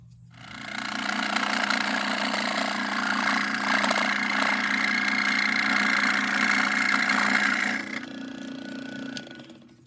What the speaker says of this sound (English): I'm just going to take it over to my scroll saw and just cut that straight.